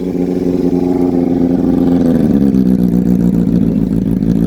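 A Suzuki Bandit 250 motorcycle engine runs steadily at close range, a loud continuous mid-pitched drone with a slight rise in revs partway through.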